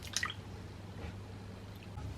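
Faint liquid drips and soft squishing as maida halwa batter is strained into a cooking vessel, a quiet, close, irregular trickle with no talking.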